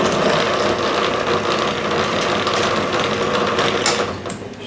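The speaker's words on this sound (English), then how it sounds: "And I run this down to drill my hole." Drill press boring a hole, a loud, steady motor-driven whir with a dense mechanical rattle running throughout, easing slightly at the end.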